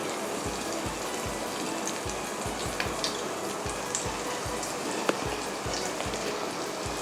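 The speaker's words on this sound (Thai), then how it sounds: "เดี๋ยวเราก็จะ ใส่กระทะลงไปทอดเลยค่ะ" Steady, loud sizzling and crackling of salmon nuggets frying in oil at about 180 degrees, with occasional sharper pops.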